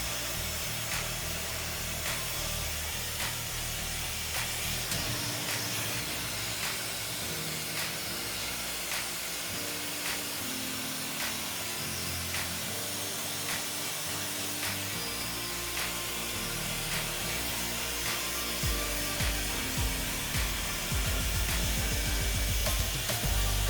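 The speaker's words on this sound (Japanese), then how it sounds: "では、ドライヤーで少し形をつけていきます" A hair dryer blows a steady, airy hiss while it dries and shapes a cut bob at a salon. The rush of air keeps going without a break, and a few soft handling noises sound underneath it.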